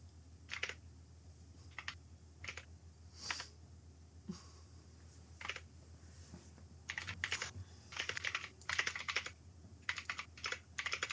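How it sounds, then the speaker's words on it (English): Quiet, close keystrokes tap in irregular bursts on a computer keyboard, some single presses, others quick runs, with no voices. "What are you typing?"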